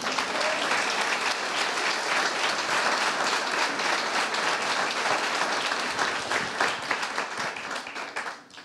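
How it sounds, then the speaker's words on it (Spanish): A church congregation bursts into sustained applause for the Lord during a sermon, thick and steady clapping across the room that tapers off in the final second. "dale un aplauso al Señor"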